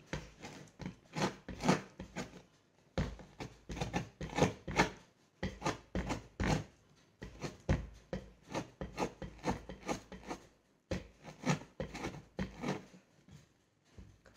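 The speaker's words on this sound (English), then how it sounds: "I am done collecting 1 teaspoon of orange zest" Orange being zested for an almond cake, a steady run of close, dry rasping strokes in quick bursts with brief pauses between groups.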